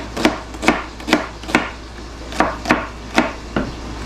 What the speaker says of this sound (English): Mr. E's gonna show us how he cuts his onions